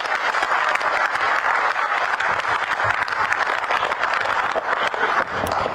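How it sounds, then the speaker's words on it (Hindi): An audience of party workers at a BJP state-level organisational workshop in Uttarakhand claps in sustained, dense applause, loud and even throughout, with no voices over it. "अपने लिए तो ताली बजा दे"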